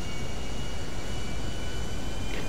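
An airplane takes off in GTA 5 Online, a steady, loud jet engine roar with a broad rushing hiss, unchanging and continuous throughout with no voices.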